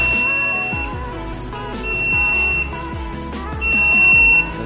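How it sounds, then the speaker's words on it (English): Repeated electronic alarm beeps from an air leakage and hydro pressure test bench, a high steady tone sounding in bursts over a background of mechanical clunks and thuds. "The cell alarm."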